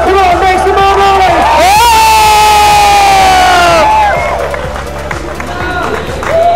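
A large crowd cheers and roars at the Mandalika World Superbike race, loud and sustained, with a rising whistle-like tone over the din and the roar easing slightly toward the end; a voice shouts over the crowd.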